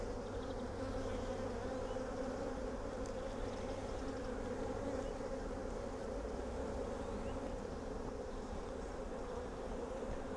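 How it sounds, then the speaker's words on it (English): Buckfast honey bees buzz in a dense, continuous drone over an open hive full of brood, steady and close with no voices. "very buckfasty looking bees"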